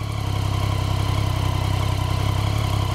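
A motorcycle engine idles at raised rpm after its throttle free play has been adjusted one turn too far. It gives a steady, close, even drone that never settles back down.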